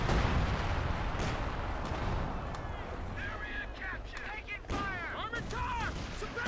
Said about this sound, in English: That's a really quick barrage.